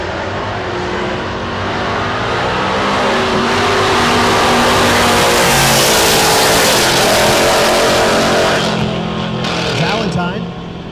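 Drag race at Tulsa Raceway Park between a white Chevy II and a black Mustang: loud engines roar and rev as the cars launch and pass, swelling through the middle and fading near the end, with an announcer talking over them.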